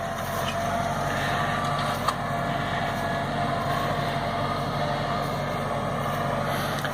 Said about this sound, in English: So basically we're scarifying the ground right here.